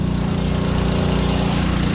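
Tractor pulling a large seed drill across a field, a steady loud engine drone with a constant low rumble and no pauses, heard close and alone.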